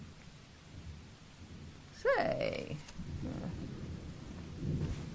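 A thunderstorm with rain in a film scene: a sharp thunder crack lands midway and rumbles off over a steady wash of rain, with a voice briefly speaking.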